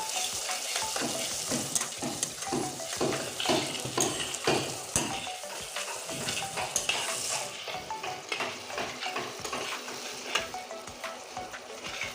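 Masala stir-fried in a pan with coriander and cumin powder for an egg tadka with masoor dal: a steady close sizzle with repeated scraping strokes of a spoon against the pan, no voices.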